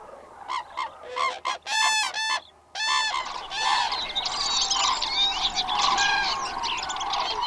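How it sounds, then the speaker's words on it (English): Common cranes perform a nuptial dance in Spanish dehesa woodland, giving loud, close, harmonic bugling calls in bursts, first as spaced honks and then as a thicker overlapping chorus. "Pairs of birds dance and sing together in a nuptial ceremony that brings them together"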